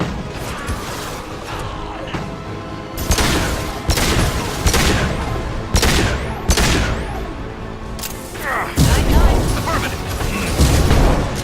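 Gunfire from the video game Mass Effect 2 comes as heavy, loud bursts of repeated shots and booms over about eleven seconds, mixed with mechanical clatter and game voices.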